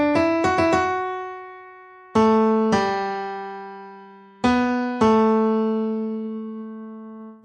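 A short melody from a TV series' main theme, played as sustained, bell-like tones with rich harmonics: a quick run of notes, then two held notes, then two more, each decaying slowly, with no talk.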